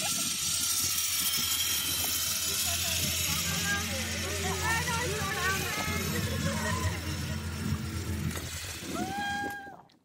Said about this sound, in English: this is the sound of someone ziplining